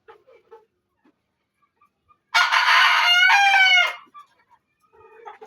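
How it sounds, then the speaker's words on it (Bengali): Fayoumi chickens on a farm in Rajbari Sadar: a rooster lets out one loud, close crow lasting over a second, with soft clucks before and after in an otherwise quiet yard. "এটা দেশি মুরগির মতো ছেড়ে পালা যায়, খুবই চঞ্চল মুরগি"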